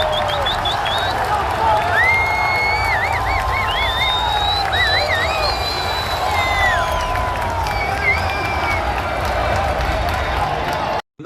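São Paulo supporters cheering at Morumbi stadium: a dense, continuous roar of a large crowd with rising whistles and shouts above it, loud and steady throughout.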